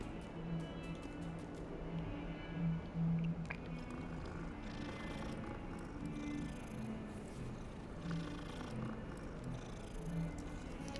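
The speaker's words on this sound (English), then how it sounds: "That is a solid purr." A cat purrs steadily in Hogwarts Legacy, a close, continuous rumbling purr that holds for the whole stretch amid faint game ambience, with no talk over it.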